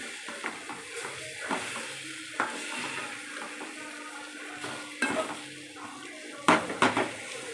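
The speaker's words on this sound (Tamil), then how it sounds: "ஃப்ரை ஆகிக்கிட்டு இருக்கு." Egg roast frying in a pan, a soft steady sizzle with a spatula scraping and clinking against the metal at intervals, sharper knocks near the end, no talking.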